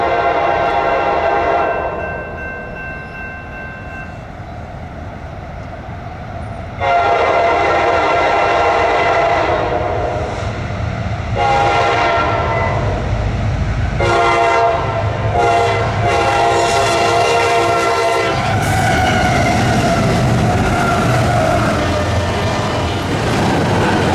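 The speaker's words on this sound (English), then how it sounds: "we got our first train, which was I-134 heading eastbound with junk power" Eastbound CSX I-134 freight train on the Garrett Subdivision passing close by; its horn sounds in several long and short blasts over a loud, heavy rumble of engines and rolling cars, with no voices.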